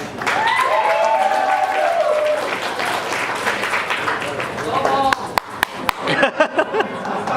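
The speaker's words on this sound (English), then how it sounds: "So let's give a round of applause for Sai." An audience at a graduation speech breaks into sustained applause and cheering while voices carry over it, then the clapping thins to a few loud, separate claps near the end.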